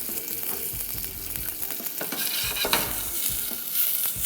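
Onions fry in oil with a dense, steady crackle and hiss, and repeated stirring scrapes run through it. The sound is close and loud from start to finish, with no speech.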